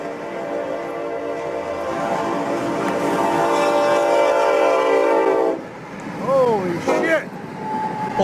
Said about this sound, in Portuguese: Outra com um comboio.